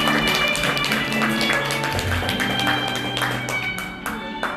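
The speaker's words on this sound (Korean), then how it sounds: "큰 박수 한번 부탁드리겠습니다." Guests at a wedding in Changwon applaud steadily after the bride and groom bow to each other, a dense, sustained round of clapping that tapers off slightly toward the end, with faint voices underneath.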